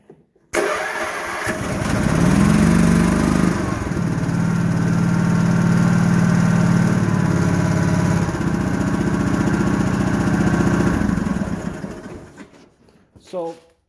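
Honda HT3810 lawn tractor engine starting with choke on, catching right away and settling into a loud, steady close-up running drone for about ten seconds before cutting off.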